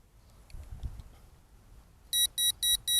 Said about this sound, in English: The camera beeps the entire time it moves